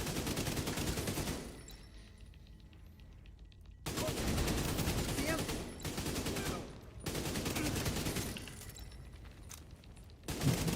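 Repeated long bursts of automatic fire from the Lexington weapon in a video game, loud and continuous, split by short pauses between volleys; no talking.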